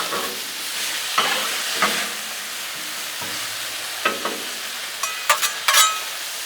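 Shrimp stir fry with soy sauce and island seasoning sizzling on a Blackstone griddle, a steady fry hiss broken by spatula scrapes and stirring clatter, with a few sharper metallic taps near the end.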